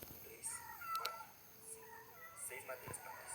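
A cat meows in the Roblox game 99 Nights in the Forest, with several soft, faint mews spread through a few seconds over quiet game background.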